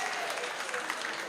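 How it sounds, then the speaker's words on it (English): An audience at a diaspora forum claps for the Prime Minister and government of Dominica, a steady round of applause at moderate volume with a faint murmur of voices in the room. "I first want to make everybody here give a round of applause for the Prime Minister and the"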